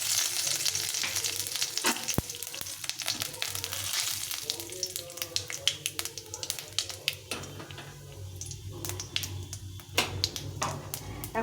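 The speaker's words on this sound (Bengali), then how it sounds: "তেলটা গরম হয়ে গেছে, আমি ফোড়ন দিয়ে রান্নাটা শুরু করব।" Dried red chili, a bay leaf and cumin seeds crackle in hot oil, a steady loud sizzle with sharp pops and spits scattered throughout, stirring taps against the pan, for a dish of black chickpeas and potatoes.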